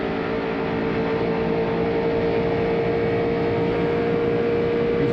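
A NASCAR stock car engine at Daytona during a bump draft holds a steady, loud, continuous drone. The tone swells slightly as the car picks up speed, with no talk over it.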